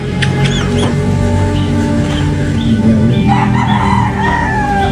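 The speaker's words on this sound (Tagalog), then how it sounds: "sino yung titilaok dyan? Eh, yung mga manok ko na yan." A rooster crows a few times amid other barnyard birds and faint background noise, moderately distant.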